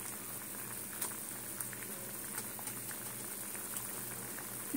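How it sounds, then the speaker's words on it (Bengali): Chicken curry sauce simmers in a pan with a continuous, fairly quiet bubbling and occasional small pops. There is no talk. "এই যে ফুটছে"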